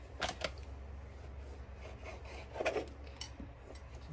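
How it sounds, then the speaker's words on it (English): A knife on a cutting board chops deli meat into tiny pieces, giving soft scraping, rasping strokes and a few light taps, faint and close with no voices. "let's cut that up into little tiny slices"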